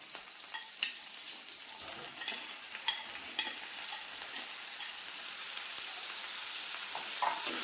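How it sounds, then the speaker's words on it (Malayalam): Small onions fry in a pan for okra curry in coconut milk, a constant close sizzle and crackle with soft stirring scrapes and clicks at intervals, with no voices. "ഇനി നമുക്ക് ഇതിലേക്ക് തന്നെ നമ്മുടെ ചെറിയ ഉള്ളി ഇട്ട് കൊടുക്കാം"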